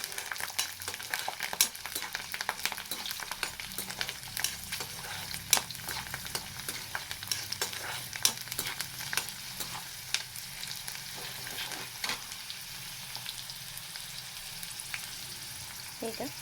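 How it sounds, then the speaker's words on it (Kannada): Garlic and mustard seeds frying in ghee in a pan, a close crackling sizzle dotted with sharp pops and spatters, with occasional scrapes of stirring throughout. "ಈಗ ಸಾಸಿವೆ ಸಿಡಿದ್ಮೇಲೆ ಬೆಳ್ಳುಳ್ಳಿ ಹಾಕ್ಕೋಬೇಕು. ಇದಕ್ಕೆ ಎಣ್ಣೆ ಸೋಗಿಸೋಂಗಿಲ್ಲ, ಚೆನ್ನಾಗಿ ತುಪ್ಪದಲ್ಲೇ ಹುರ್ಕೋಬೇಕು ಎಲ್ಲನೂ."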